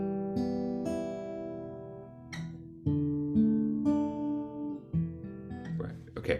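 Plucked guitar notes ring out in a slow melodic phrase, several sustained tones overlapping, with a few sharper attacks near the end; close and clear, no voices.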